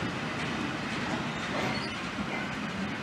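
An ICE2 class 402 high-speed train passing through Gemünden, heard as a continuous close, loud rush and rumble of wheels and airflow throughout.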